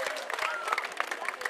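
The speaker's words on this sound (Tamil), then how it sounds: "எங்கே ஒரு முறை எல்லோரும் இணைந்து அவர்களுக்கு ஒரு கரகோஷம்." Applause from a crowd at a school event in Sri Lanka: a short burst of scattered, moderately loud clapping, dense and uneven, lasting under two seconds.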